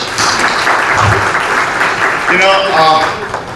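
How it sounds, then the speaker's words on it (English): Loud crowd applause for entrepreneurs at a Royal Brands event, a thick continuous wash of clapping with voices and some cheering mixed in near the end. "Please give a big round of applause for all the entrepreneurs."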